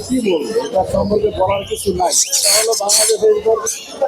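People talk amid birds at a bird market in Mirpur, with shrill, bright chirps and squawks bursting out close by in the second half.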